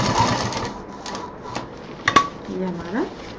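A sewing machine stitching a sling bag runs in a steady, close mechanical whir with faint rhythmic clatter, while a voice speaks over it.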